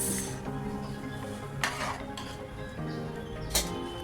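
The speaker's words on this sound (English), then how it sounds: "We'll give one gentle mix" A pot of spicy chhole masala, just topped with tadka, is stirred once gently, giving soft scraping and a couple of brief metallic clinks from the spoon against the pot over steady background hiss.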